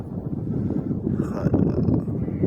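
Steady wind buffets a microphone on the open uplands of Mont Lozère, a continuous low roar that rises and falls in gusts throughout, with no voices present.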